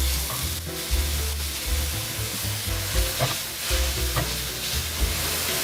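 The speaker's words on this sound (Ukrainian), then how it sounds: "смажимо цибульку, моркву та солодкий перчик" Onion, carrot and sweet pepper sizzle in a hot pan, a dense continuous hiss with occasional stirring scrapes, close up and steady throughout.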